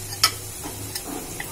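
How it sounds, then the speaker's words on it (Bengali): Shrimp fry in oil with turmeric powder in a pan, a quiet steady sizzle broken by a few faint stirring clicks and taps, with no talking. "মাছটা দেখতে পাচ্ছেন একটু তেল বেরিয়েছে, মাছটা ভাজা ভাজা হয়ে আসছে।"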